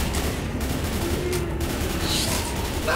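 Dense, continuous gunfire from the Left 4 Dead 2 video game, a steady loud clatter of rapid shots filling the whole stretch with no pauses, no talk over it.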